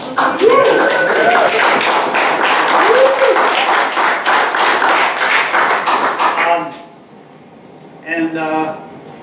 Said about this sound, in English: I'd like to give everybody here a hand for ourselves